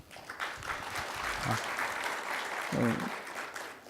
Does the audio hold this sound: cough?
no